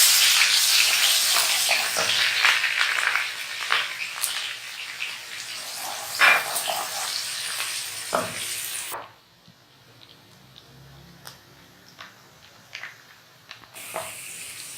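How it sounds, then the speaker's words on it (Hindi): Onions sizzle in half a cup of hot oil over a low flame, a close, steady hiss that suddenly drops to a quieter crackle partway through before briefly surging again. "बस हमने थोड़ा सा इसको ऑयल में फ्राई किया है।"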